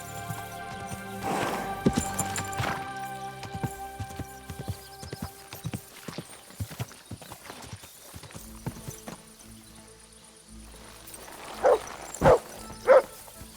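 A video game dog barks near the end of the clip, with a few loud sharp barks following a stretch of game ambience, music and footsteps.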